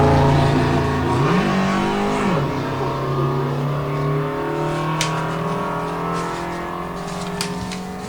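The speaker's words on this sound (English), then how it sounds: "And here's the Subaru underway now." A naturally aspirated 2-litre Subaru Liberty sports sedan accelerates hard at a hillclimb sprint, engine pitch rising through gear changes and fading as it pulls away, with a few sharp clicks near the end.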